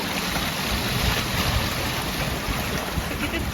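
A dense, unbroken rush of falling water at a Shegaon temple, loud and close, with a steady roaring texture and no talking.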